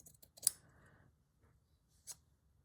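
Scissors trimming a piece for a handmade Christmas craft tag, two crisp close snips about a second and a half apart, with a soft rustle after the first, in an otherwise quiet room.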